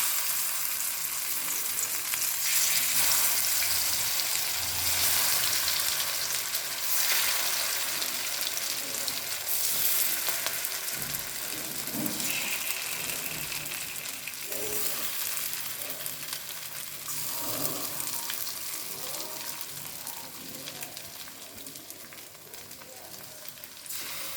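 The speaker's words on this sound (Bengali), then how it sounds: "গরম তেল আর ঘিটা মধ্যে এটা একটা একটা করে আমি চিংড়ি মাছগুলো ছেড়ে দেবো।" Prawns frying one by one in hot oil and ghee give a loud, steady sizzle with crackling bursts, continuous throughout and close by.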